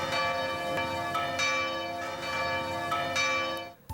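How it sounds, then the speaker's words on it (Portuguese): Church bells ring out in rich, layered overlapping tones, sustained and resonant, with new strikes every second or so, steady and fairly close. "as melodias dos sinos das igrejas"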